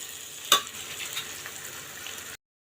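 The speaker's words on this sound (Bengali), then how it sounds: "আর একটু ভাজবো, তাহলে হবে" Aam bharta, a mashed mango dish, frying in a pan with a steady, soft sizzle, a single brief clatter near the start, then sudden silence.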